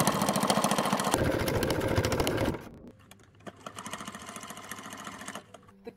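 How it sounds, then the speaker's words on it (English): A sewing machine stitches a decorative black edge onto an 1890s Victorian-inspired coat: a fast, steady mechanical whirring run, close and loud, stopping briefly, then starting again more quietly. "then I'll sew it on the sewing machine"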